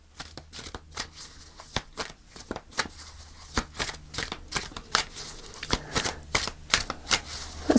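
Tarot cards shuffled by hand, a close, rapid series of crisp riffling slaps and flicks that runs steadily and grows slightly busier toward the end.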